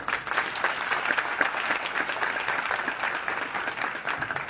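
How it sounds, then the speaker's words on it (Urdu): Congregation of women clapping at a pastor's Urdu sermon on the second coming of Jesus, a steady, dense round of applause that holds evenly for several seconds without talk. "اچھا ایک دفعہ پھر کھل کے ذرا تالیاں بجاؤ"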